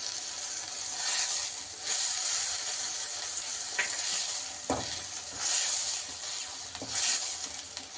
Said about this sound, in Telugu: ఇప్పుడు దీంట్లోకి కరివేపాకు వేసుకుందాం.